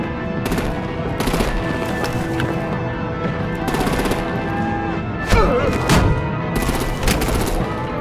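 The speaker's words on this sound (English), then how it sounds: "Break out the artillery and disable their vehicles!" Artillery and automatic gunfire in a Batman: The Enemy Within scene, loud bursts of rapid shots in repeated volleys with a heavy impact thud midway, over a busy background.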